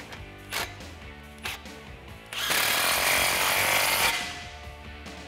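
A power tool whirs for a couple of seconds, tightening an exhaust hanger onto an F150 frame during a dual exhaust install, preceded by a few light clicks and clanks.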